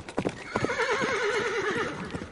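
A horse's hooves clip-clop in quick galloping beats as the animal lets out a loud, wavering neigh, close and clear, with the hoofbeats continuing beneath the whinny.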